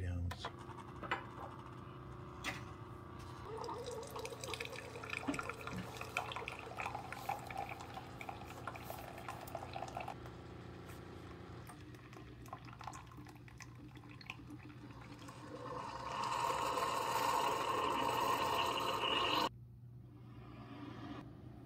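A coffee maker brews an 8-ounce Dunkin Donuts K-Cup, giving a steady hiss with trickling, dripping liquid. It swells louder near the end, then cuts off abruptly.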